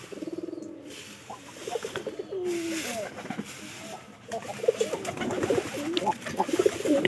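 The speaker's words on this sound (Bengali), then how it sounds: "যেহেতু আমরা দেশি কবুতর লালন পালন করতেছি" Domestic country pigeons, a kept pair that is not crossbred, coo in soft repeated rolling phrases close by, with speech-like sounds and other bird calls mixed in throughout.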